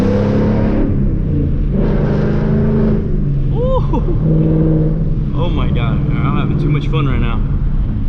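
A 2018 Ford Mustang GT with a V8 and MT82 manual gearbox rumbles loudly and steadily while driving, deep low-end drone throughout, with people talking and exclaiming over it.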